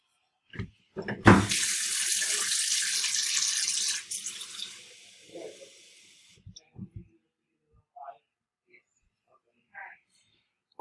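Tap water runs loudly into a container for about three seconds while a lava lamp experiment is set up, then tapers off, followed by a few faint clinks and handling sounds.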